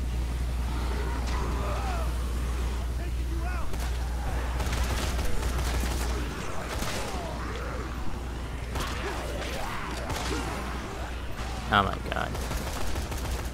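Gunfire from guns in the Dead Rising 3 zombie game during co-op play, scattered shots over a steady low rumble, with players talking throughout.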